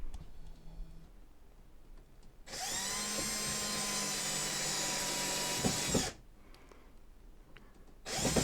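A power drill fastens a part into place on a model railroad layout, running as one loud, steady whir for about three and a half seconds between quiet stretches.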